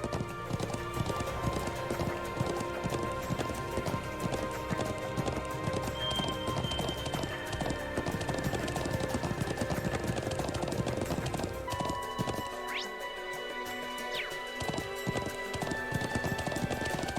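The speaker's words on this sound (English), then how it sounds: "I'm glad I still remember how to ride a horse." A horse gallops in the video game Trails of Cold Steel II, its rapid, even hoofbeats clip-clopping loudly and continuously in front of ambient game music.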